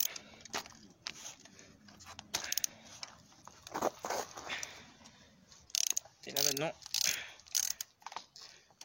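A spring compressor is tightened onto short shock absorber springs for a BMW E46, giving repeated ratcheting clicks and metallic creaks in bursts with pauses, close by.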